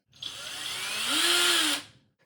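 Power drill running, recorded for Iron Man suit sound design: a close whirring motor that spins up, its pitch rising as it reaches speed, holds briefly, then cuts off abruptly, heard alone.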